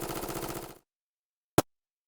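An MP7A1 gel blaster fires unsuppressed in a rapid full-auto burst lasting under a second, followed by silence and then one short sharp snap, loud and close with no talking.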